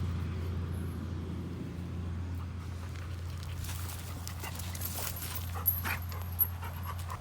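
A farm cow dog that also lives as a house dog pants softly and steadily at close range over a low, constant engine-like hum.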